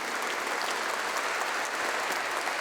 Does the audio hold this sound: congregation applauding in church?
yes